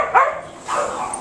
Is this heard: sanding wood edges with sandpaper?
no